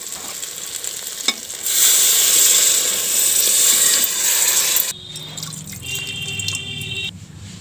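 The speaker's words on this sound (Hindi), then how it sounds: "अब इसमें 2 गिलास पानी डालेंगे।" Water poured into browned chicken in a pressure cooker hisses and sizzles sharply for a few seconds, then gives way to softer bubbling and clinking, close up and without speech.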